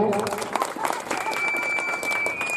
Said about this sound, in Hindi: सबसे पहले हमारे तीनों जजेस के लिए एक बार जोरदार तालियां हो जाए।